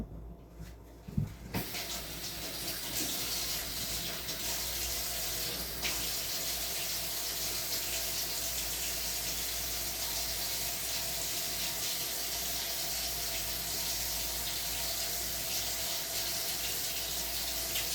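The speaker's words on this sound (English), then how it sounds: "I'm just gonna give these a quick rinse." Vegetables for chicken soup being rinsed under a running kitchen tap, a steady close stream of water splashing into the sink that runs without a break, with a brief clatter at the start.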